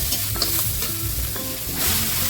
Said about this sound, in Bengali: এরপরে মাছগুলো দিয়ে একটু নেড়ে নেবে।